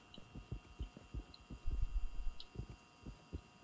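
Monster heartbeat in a Backrooms video game: a steady run of low, thudding double beats, fairly soft and close, pulsing through the whole stretch over a faint background hum.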